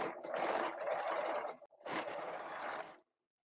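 A serger stitches knit sweater fabric in two quick, steady bursts separated by a brief pause, then falls silent.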